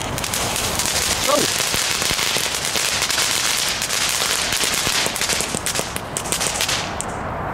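Starburst fountain firework erupting all at once, a dense continuous crackle of rapid pops and bangs lasting several seconds, loud and close, with voices faintly in the background.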